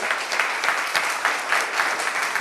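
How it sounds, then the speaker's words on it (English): A conference panel audience applauds the panelists with steady, dense clapping that stays loud and even for the whole stretch, with no voices breaking through. "let's hear it for our panelists here"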